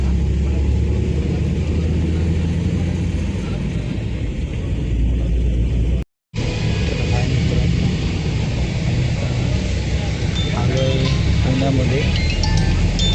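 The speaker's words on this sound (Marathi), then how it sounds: "पटपट चालला गाडी सुरू" A bus cruising along a highway near Pune toward Hyderabad: a loud, continuous road-and-engine roar with a brief cut near the middle, and occasional voices blended into the noise.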